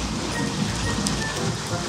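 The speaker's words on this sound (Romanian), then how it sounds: "Avem grindină!" Hail falling during a spring storm, a dense, steady hiss of pellets striking surfaces close by, continuous and even throughout with no voices.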